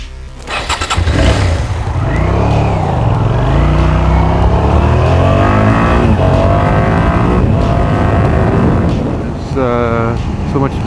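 A motorcycle rides through the east side of Portland, Oregon, its engine loud and close, revving and shifting with rising and falling pitch throughout, and a voice speaks briefly near the end.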